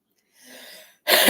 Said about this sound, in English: I'm so sorry about all the coughing